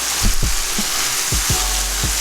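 Scrambled paneer hitting a hot pan, 200 grams of crumbled cheese sizzling steadily with a broad hiss and a few low thumps and scrapes, close and fairly loud, no voices.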